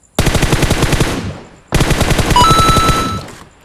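Two long bursts of rapid automatic gunfire in the PUBG Mobile video game, loud and close, each a steady rattle of evenly spaced shots fading out, with a brief gap between bursts and no talk.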